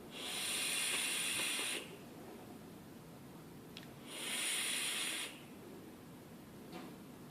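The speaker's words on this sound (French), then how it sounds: "Prendre une coupe de vape, là." Two long puffs drawn through a Derringer vape, each a loud airy hiss lasting over a second, separated by a quiet gap with faint background noise and no speech.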